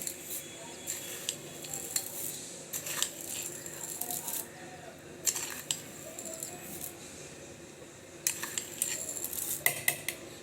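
Sugar is spooned into a bowl of yogurt for mango lassi, bright clinking metal spoon taps against the container in scattered clusters over a faint steady hiss.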